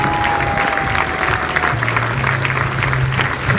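Rugby league crowd giving steady applause and cheers for runners-up Wakefield Trinity at a medal presentation, a dense, continuous roar of clapping with a faint tone sustained underneath.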